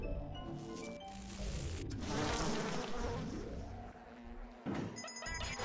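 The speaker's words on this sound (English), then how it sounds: "Bees." Bees buzzing in the BioShock video game, a close, wavering swarm drone with sweeping pitch glides, steady and fairly loud, with no voices over it.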